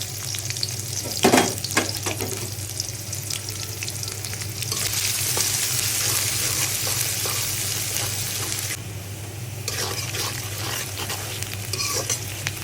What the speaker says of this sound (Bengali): এখন এই তেলের মধ্যেই আবার কিছুটা পেঁয়াজ দিয়ে নিলাম